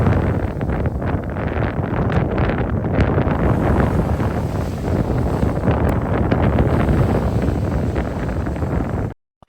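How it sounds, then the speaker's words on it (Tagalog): Strong wind roars continuously across the microphone, loud and buffeting throughout, with no voices. "Ang lakas ng hangin."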